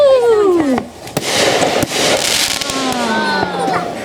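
New Year 2020 fireworks and firecrackers go off nearby, loud and continuous. Whistling rockets rise and fall in pitch over sharp pops and crackling, and voices are mixed in.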